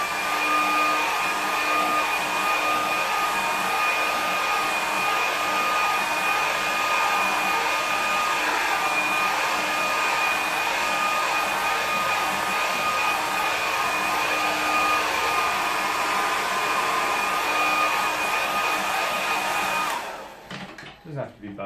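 A hair dryer blows steadily on wet watercolour paint, a loud continuous whir with a fixed high whine that holds for about twenty seconds and then cuts off abruptly.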